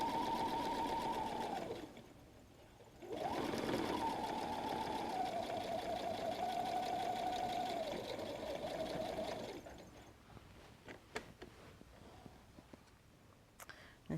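A sewing machine stitches along a chalk line on a canvas messenger bag, running steadily in two long bursts with a short pause between, then stopping as the work is handled with soft clicks and rustles.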